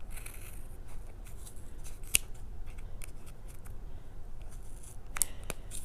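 Scissors snipping yarn wound on a Boye pom pom maker, faint scattered cuts with a couple of sharper clicks over a soft, steady background hiss; no one speaks.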